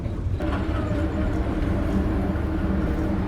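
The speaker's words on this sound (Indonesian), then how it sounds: "saat ini kereta api Joglo Semarkerto masuk Stasiun Kedung Jati" Joglo Semarkerto train pulling into Kedung Jati station in Indonesia, a steady loud rumble of rolling wagons and wheels on rails heard from on board, continuous with no voices.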